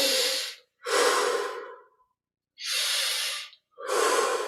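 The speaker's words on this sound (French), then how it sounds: "20 respirations profondes." Deep, forceful breaths taken during a Kriya Yoga exercise, four long airy strokes alternating inhale and exhale in a steady rhythm, close and clear with no talking.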